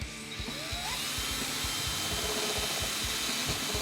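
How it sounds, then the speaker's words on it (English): A power drill whirs steadily at close range, with a rapid rhythmic pulsing as it bores holes through the sides of a rack case, no talking. "I'm just going to drill a couple holes through each side."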